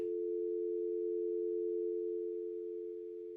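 A telephone dial tone plays from a handset. It is a single steady hum, clear and unbroken, fading a little toward the end, with nothing else heard.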